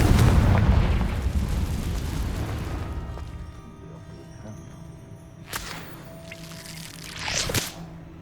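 A Confringo blast spell in the game Hogwarts Legacy, a heavy booming explosion that rumbles and decays over a few seconds, followed by fainter crackling magical whooshes.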